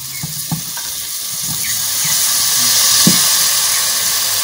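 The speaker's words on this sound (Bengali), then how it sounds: "এখন আমি খুব সুন্দরভাবে নেড়ে ছেড়ে মশলার উপকরণের সঙ্গে কাঁচা আমগুলো মিক্সড করে নিচ্ছি" Raw mango pieces being stirred with spices in a hot pan for a dal dish, giving a steady sizzle with scraping spoon strokes and a few sharper knocks, close and alone without talk.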